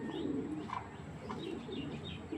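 Large racing pigeons coo softly in a loft, with low repeated coos and a few faint chirps over a steady background hum.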